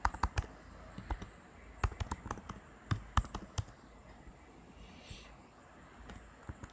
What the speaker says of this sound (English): I'm just typing down my IDs.